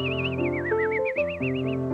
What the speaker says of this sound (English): She plays music on the piano, and she starts whistling